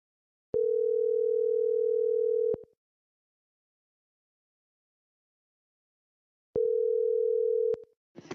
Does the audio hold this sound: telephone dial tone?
yes